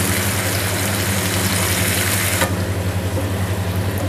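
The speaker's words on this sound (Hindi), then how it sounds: "तो अब मैं इसमें डाल दूँगी ऑयल, साथ ही इसमें डाल देंगे प्याज।" Onions sizzling and frying in hot oil over a medium flame for an egg masala curry, a steady loud crackle throughout that eases slightly partway, with no talking.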